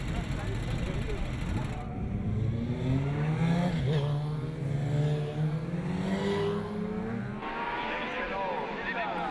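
Promosport senior race motorbikes roar off the start line at Carole circuit, engines revving and rising in pitch as the pack pulls away, with a commentator talking over the noise.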